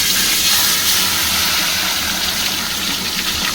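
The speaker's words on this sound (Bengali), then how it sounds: "এবার আমি মাছগুলো খুব বড় বড় একটা একটা করে দিয়ে ভেজে নেব।" Large pomfret fish fry in very hot oil, giving a loud, continuous, close-up sizzle that roars evenly throughout.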